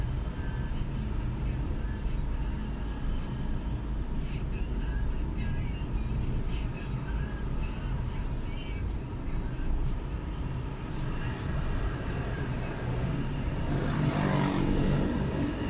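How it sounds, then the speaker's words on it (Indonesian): Afternoon street traffic on Jalan Bandang in Makassar, a steady hum of passing cars and motorbikes at moderate distance, with one vehicle growing louder as it passes near the end. "Kondisi lalu lintas sore ini di seputaran Jalan Bandang cukup sepi, ramai lancar ya."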